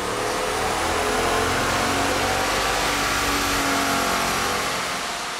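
A stock Hemi pickup truck fitted with a supercharger and exhaust revs hard in fourth gear on a chassis dyno, a loud, continuous engine roar that climbs steadily in pitch, with no talk over it.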